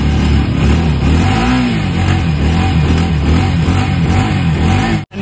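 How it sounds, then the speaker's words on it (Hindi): A KTM motorcycle engine roars and revs in snowy conditions, a loud, close, continuous engine note with rising and falling pitch that cuts off abruptly at the end. "ओ भाई साहब हो रहा स्टार्ट"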